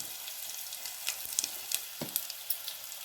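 Reddened garlic and asafoetida crackle and sizzle softly in hot oil for a spicy black-eyed pea and vegetable curry. Scattered small pops and light spoon taps sound over the quiet hiss.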